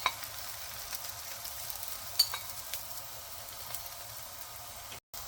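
An aloo paratha cooks on a pan over a medium flame after ghee is spread on it, making a faint, even sizzle with light crackles and a brief dropout near the end.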